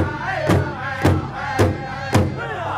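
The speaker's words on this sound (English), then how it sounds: "Give them all a big round of applause." Crowd noise at a Kainai powwow, with four loud, evenly spaced booming thumps like drum strikes cutting through a steady murmur of voices and shouts.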